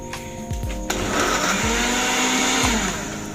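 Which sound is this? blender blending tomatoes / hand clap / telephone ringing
blender blending tomatoes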